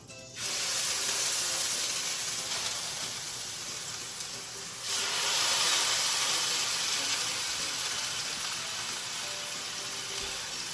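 Prime rib steaks sear in hot grapeseed oil with a loud, close, hissing sizzle that runs continuously, swelling briefly after a short dip as the meat is turned.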